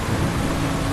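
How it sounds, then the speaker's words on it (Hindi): Steady rain with a deep thunder rumble fills a brief dense wash of noise, continuous and loud without any voices, as a stormy night backdrop for a horror tale. "बारिश हो रही थी।"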